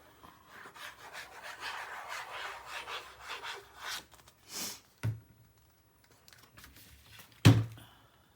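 Paper pieces being trimmed for a winter-themed mini album page, heard as a steady close scraping and rasping run for several seconds, then a brief pause and a few sharp knocks and taps near the end, with no talking.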